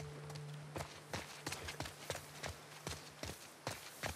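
Horse hooves clip-clop on hard ground in the video game The Last of Us Part II, a dozen or so sharp, uneven knocks at a walking pace over a steady low hum, fairly near and clear.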